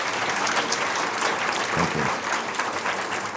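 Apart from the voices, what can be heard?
audience applause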